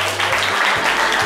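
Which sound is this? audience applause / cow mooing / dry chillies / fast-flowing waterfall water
audience applause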